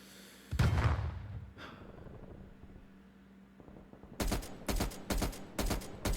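Light machine gun fire in a first-person shooter: one loud burst, then after a lull a string of sharp, rapid automatic bursts with short gaps, close and dominant.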